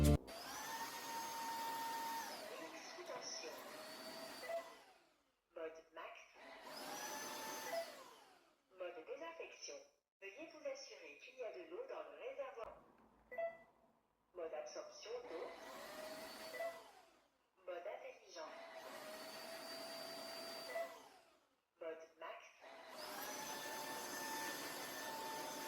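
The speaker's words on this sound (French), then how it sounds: "C'est vraiment franchement formidable de pouvoir aspirer et laver vos sols en même temps." A cordless wet-dry vacuum cleaner that mops floors switches between its modes, a loud whining motor drone that repeatedly starts and stops with short pauses, while someone talks over it.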